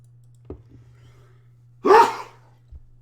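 A single sharp sneeze bursts out near the end, preceded by a faint breath and small clicks in an otherwise quiet room during a tabletop Civil War wargame.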